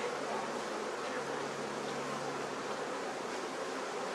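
Honeybees at Costa Honey Farm, a soft continuous buzzing hum with a hiss-like wash behind it, steady and unbroken, with no voices.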